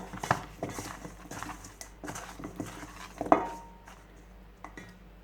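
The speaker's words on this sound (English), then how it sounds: "So now I am just going to use my hands and just mix everything together" Seasoned chicken feet, coated in Lawry's seasoned salt for a Jamaican curry, are mixed by hand in a bowl, giving soft wet squelches and patters with scattered clinks and one sharper knock.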